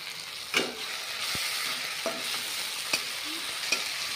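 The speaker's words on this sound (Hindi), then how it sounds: "हमने पेस्ट बनाया था लाल मिर्च और लहसुन का अच्छे से चला लेंगे" A paste of red chili and garlic frying in a pan as it is stirred, producing steady hissing sizzle punctuated by several sharp spatula clicks and scrapes against the pan, close and moderately quiet, no speech.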